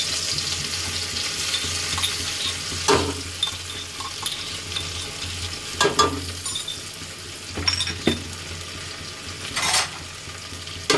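Ginger garlic paste hits hot oil already seasoned with cumin and asafoetida, giving a steady close sizzle broken by several scraping stirs of a spoon against the pan. Nobody speaks.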